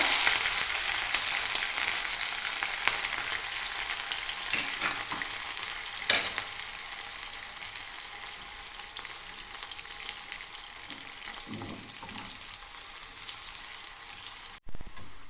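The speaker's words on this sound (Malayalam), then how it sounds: "അടുത്ത് നമുക്ക് ഫ്രൈ ചെയ്തെടുക്കേണ്ടത് പച്ചമുളകാണ്" Green chillies frying in oil for Kerala-style beef pickle give off a steady close hiss and sizzle, with occasional soft stirring scrapes and brief pops.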